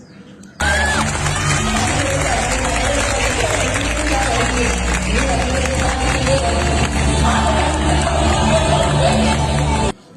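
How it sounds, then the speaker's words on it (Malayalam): Large audience at a school arts festival dance performance, a dense sustained wash of crowd noise and clapping with steady babble, loud and continuous throughout. "നിങ്ങൾ തന്നെ ഇപ്പോൾ കേട്ടല്ലോ അല്ലെ ഓഡിയൻസ് എല്ലാം ഈ ഡാൻസിൻ്റെ ഇടയിൽ തന്നെ ഭയങ്കര കൈയടിക്കുമായിരുന്നു"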